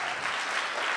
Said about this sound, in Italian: Vorrei che facesse un applauso per lo sponsor